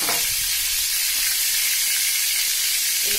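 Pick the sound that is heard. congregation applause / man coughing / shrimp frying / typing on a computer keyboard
shrimp frying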